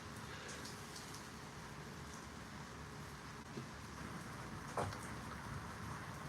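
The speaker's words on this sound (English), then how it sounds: "We have nice little drizzling rain here in Fort Lauderdale" Light drizzling rain in Fort Lauderdale makes a steady, faint hiss throughout, with a brief soft thump or patter standing out near the end.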